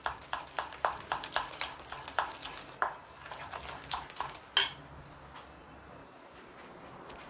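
Powdered sugar, vanilla essence and butter are mixed for butter cookies with a utensil in a bowl, giving a quick, even series of close clinks and scrapes that slows, stops and leaves near silence.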